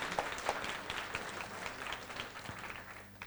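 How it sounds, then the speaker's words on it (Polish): Faint, thin applause from a conference audience in Olsztyn, a scattering of hand claps with a few sharper individual claps, heard from a distance for a few seconds. "Gorące brawa dla nich."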